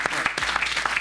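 A brief round of applause from an audience, with several distinct, sharp claps standing out over a denser patter of hands, close and moderately loud.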